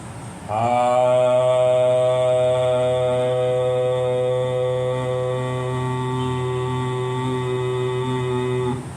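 A single sustained chanted "Om", a deep steady voice with rich overtones held for about eight seconds.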